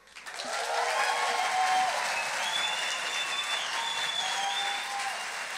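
An audience at a science talk breaks into sustained applause, a dense, even roar of clapping that rises quickly and holds steady without speech over it.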